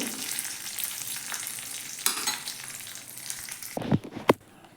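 Curry leaves and black mustard seeds hit hot oil with a steady, crackling sizzle and scattered pops, punctuated near the end by a few sharp clatters of stirring.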